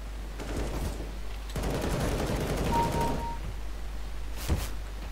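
Galil assault rifle fire in Counter-Strike: Global Offensive, sounding as a dense rattle of close shots that starts after a brief pause and runs on, with a sharp single crack near the end.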